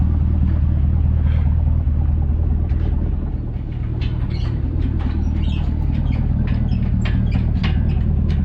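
A truck hauling an engine and hoist drives along with a steady low engine rumble and road noise, with faint clicks and rattles over it and no talk.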